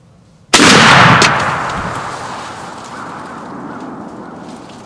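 Single loud shotgun blast fired at an Osceola turkey during a hunt outdoors, a sharp crack followed by a long rolling echo that fades slowly over several seconds.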